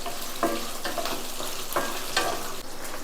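Onions and two sliced green chillies sauté in a pan, a rough sizzling hiss that swells in rhythmic bursts as they are stirred, close and fairly loud with no talking.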